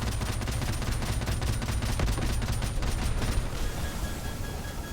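Rapid, dense gunfire crackles in Call of Duty Modern Warfare Remastered, with overlapping automatic bursts firing nonstop for several seconds before thinning out near the end.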